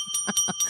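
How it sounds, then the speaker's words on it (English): A handheld bell rung rapidly and repeatedly in a studio setting, four or five quick bright metallic rings close to the microphone with a steady high tone lingering underneath. "I just ring this bell the whole time"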